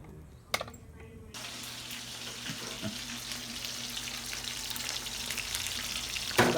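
A pork chop sizzles and spits steadily in a frying pan, a continuous crackling hiss after a brief clatter, close and moderately loud.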